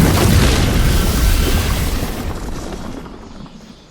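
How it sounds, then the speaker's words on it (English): A dragon's fire breath attack in Dragon Age: The Veilguard: a loud, roaring whoosh of flame that starts strong and slowly fades over a few seconds, heard alone. "Good use of fire breath."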